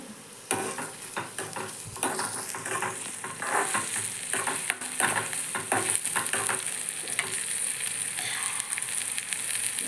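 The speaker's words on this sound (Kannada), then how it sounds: "ಈಗ ಉಳ್ಳಾಗಡ್ಡಿ ಕಮಕತ್ತಿ ನೋಡ್ರಿ ಚಟ್ನಿಗೆ" Onions for chutney sizzle steadily in a hot pan while a spoon stirs and scrapes them, a continuous crackling fry with no talk.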